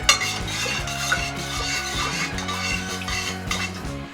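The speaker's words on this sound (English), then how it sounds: "You can go ahead and grab that bar spoon right there. And right there. Yeah. Just stir it all up real quick." A bar spoon stirs keto-friendly, low-carb satsuma mandarin tangerine liqueur in a vessel, giving a steady run of quick, close, rhythmic clinks and swishes with no voices.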